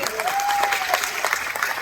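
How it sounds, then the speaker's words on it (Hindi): Audience applause for wellness-industry attendees at a sales motivational talk, a dense steady patter throughout, with a faint voice over it. "तालियां हो जाएं आपके लिए"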